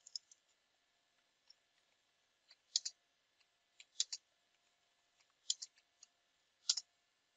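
A password typed on a computer keyboard at a Linux login prompt: a dozen or so faint, sparse clicks in small clusters, widely spaced and close against near silence.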